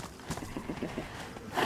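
Horse in the DayZ video game, with a rapid run of hoof clip-clops close by, followed by a louder noisy burst at the end.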